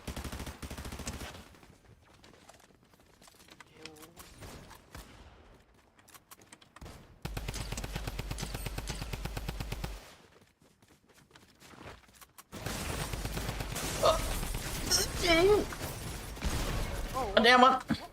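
Bursts of video game gunfire from a first-person shooter match, rapid dense volleys that come and go in sections, with players talking over and between the shots.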